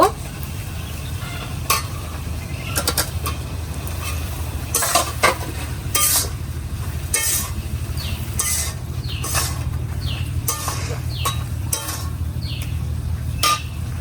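Potatoes and vegetables fry in a pot for a Bengali hilsa and taro-leaf meal: a continuous close sizzle with repeated spoon scrapes and clinks as tomatoes go in, over a low steady hum.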